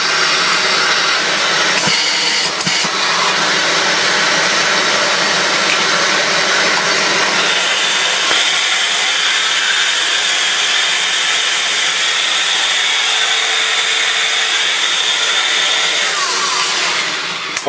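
A Dyson Animal Ball 2 UP24 upright vacuum cleaner running after repair, a loud steady close whine and roar that shifts in pitch slightly partway through, with no voices over it.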